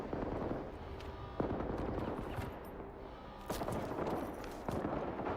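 Gunfire in S.T.A.L.K.E.R. 2 on PS5: repeated loud bursts of rapid shots separated by short gaps, with sharp cracks standing out over a rough, continuous combat din.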